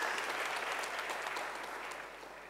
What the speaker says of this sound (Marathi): आता टाळ्या.